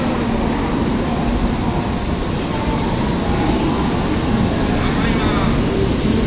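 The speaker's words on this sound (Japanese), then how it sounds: "のぞみ151号博多駅がちょうど出発していきました。" A Nozomi 151 shinkansen departing a station, a loud continuous rushing rumble of wheels and air, steady and close throughout.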